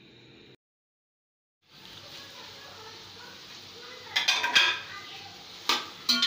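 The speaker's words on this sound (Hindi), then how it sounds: "टमाटर शामिल करने के बाद इसको मिक्स करेंगे।" Tomatoes drop into a hot pan for chicken pulao, bringing a steady broad sizzle and then clattering spoon-on-pan scrapes and knocks as they are stirred. A brief hush comes first, and the noise stays close and moderately loud.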